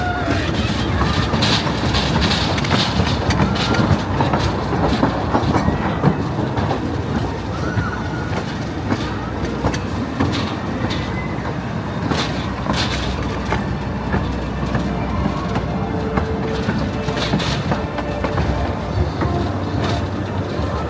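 A roller coaster train rumbles along its track at Blackpool Pleasure Beach, a steady loud clattering roar with rail clicks that stays close and continuous throughout, no talk over it.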